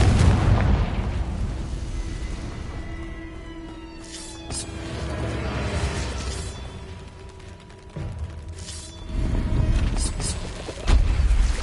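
Fiery Confringo spell blasts in the Hogwarts Legacy video game, a few booming bursts with rumbling tails spread across the stretch over a busy game soundscape.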